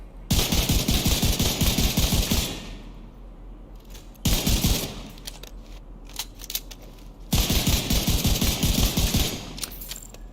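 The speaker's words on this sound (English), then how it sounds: "the sniper rifle is designed for long range. So I'm not aiming for the head with this." Rapid bursts of gunfire from The Division 2 video game, three long volleys of fast repeated shots with crackling tails, loud and close, separated by brief pauses.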